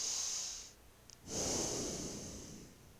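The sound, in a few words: breathing in and out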